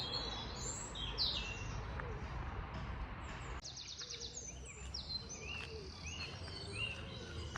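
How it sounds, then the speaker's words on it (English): Dense chorus of many birds singing and chirping outdoors in a park in spring, overlapping high calls and trills continuing steadily throughout, some near, others farther off. "you can really hear the spring in all these birds."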